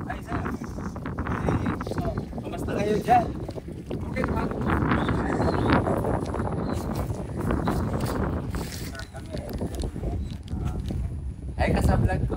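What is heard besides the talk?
strong wind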